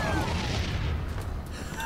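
A LAW rocket explosion in the video game Wasteland 2, a deep sustained boom with a rumbling, crackling tail that stays loud for about two seconds, with no voice over it.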